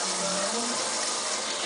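Warm tap water gushes steadily into a measuring cup for bread dough, a continuous close splashing pour with no talk over it.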